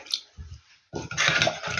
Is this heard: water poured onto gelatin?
yes